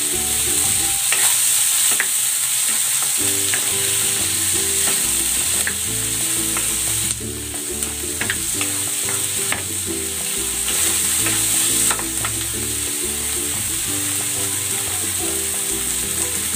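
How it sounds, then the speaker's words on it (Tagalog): Onion and tomato sauté in a frying pan, with steady sizzling and repeated scraping and stirring strokes of a utensil against the pan throughout, close and fairly loud, no talking. "Ilalagay ko na rin tong sibuyas. At ang kamatis."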